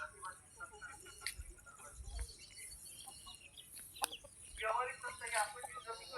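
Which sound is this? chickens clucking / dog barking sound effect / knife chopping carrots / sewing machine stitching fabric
chickens clucking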